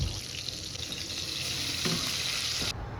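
Fish frying in hot oil gives a continuous bright sizzle and crackle that holds steady throughout, then cuts off abruptly near the end.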